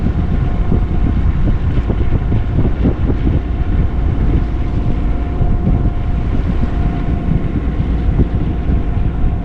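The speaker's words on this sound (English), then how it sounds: "Getting a touch more wind." Wind rushes steadily over a boat on open water in Rosario Strait, a loud, constant roar and buffeting that carries on without a break and has no voices over it.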